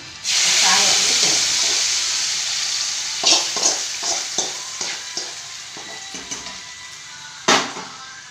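A tempering of spices fries loudly in a hot pan for a lunch dish, a steady close sizzle that eases over time, broken by several sharp scraping stirs from a ladle and one strong knock near the end.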